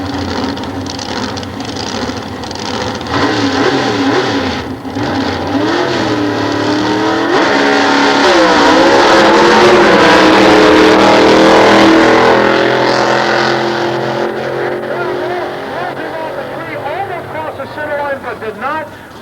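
Nostalgia drag race cars at Sears Point in 1993, including a twin-carbureted A-Gas Supercharged machine, roar loudly as engines rise in pitch and sweep down the strip, with an announcer talking over the sustained racing noise.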